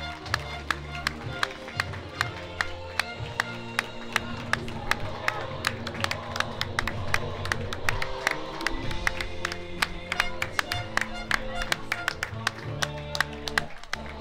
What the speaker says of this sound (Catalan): Un fort aplaudiment pels jugadors de tots dos equips.